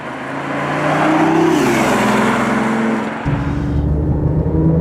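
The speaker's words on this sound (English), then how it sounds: "I guess that's not really how a 3-cylinder engine sounds." A BMW three-cylinder engine, played through a synthetic engine sound, revs up loudly from inside the car and holds a droning roar, then drops to a lower, steady pitch as it keeps accelerating.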